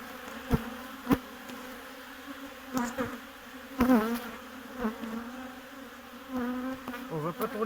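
Honeybees drone steadily around an open hive during varroa treatment before winter, a soft continuous buzz with louder individual bees passing close, while people speak quietly nearby.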